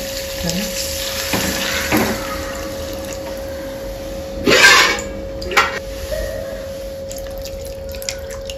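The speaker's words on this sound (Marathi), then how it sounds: "थोडं पाणी टाकूया." Water poured into a pan of spiced oil and masala while cooking a brinjal curry: a brief gush and splash midway, with a few smaller drips and clinks around it against a quiet kitchen background.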